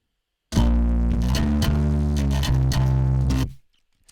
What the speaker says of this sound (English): That's quite a gnarly bass sound